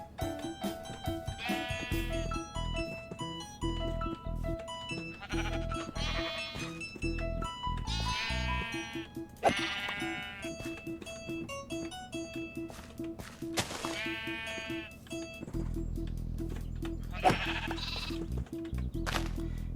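Sheep bleat repeatedly in a Minecraft-style island survival video game, wavering cries over a steady tonal background soundtrack, with footstep-like taps and game effects at moderate level.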